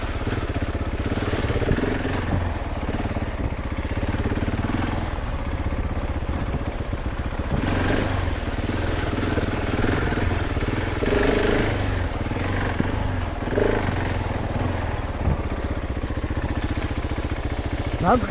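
A KTM 690 Enduro R motorcycle ridden off road on twisty trails, its single-cylinder engine droning steadily up close with rough mechanical clatter over constant wind rush.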